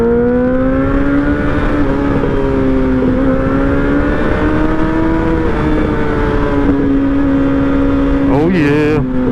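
A 2008 Suzuki Hayabusa with a stretched swing arm and Brock's performance exhaust revs hard on a test ride, a loud steady engine drone climbing and falling in pitch, with a brief sharp whine near the end.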